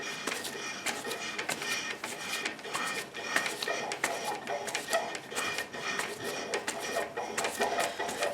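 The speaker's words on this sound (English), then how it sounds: "You notice how it sounds sort of like an interrupted cut?" An old hand-powered lathe making an interrupted cut, with a faint rhythmic scraping and ticking as the tool catches and releases the work, steady and quiet throughout.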